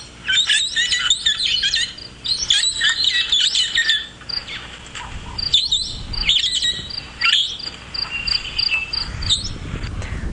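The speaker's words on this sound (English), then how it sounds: "So that's the parrots calling." Shrill, repeated high-pitched calls of parrots echoing outdoors in bursts during a sunrise safari drive, over a steady bed of insect and bush noise.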